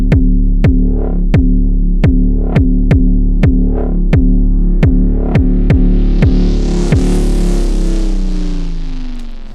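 A loud FM synth bass fused with a kick drum pounds out a steady pulse of roughly a dozen evenly spaced thumps over a sustained low drone, with a bright, noisy swell building toward the end, no talk.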